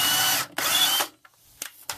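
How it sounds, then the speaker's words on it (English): A power drill bores a hole for a cable, running in two loud sustained bursts separated by a short pause, then stopping, followed by a few faint clicks and taps. "And so we need to drill a hole."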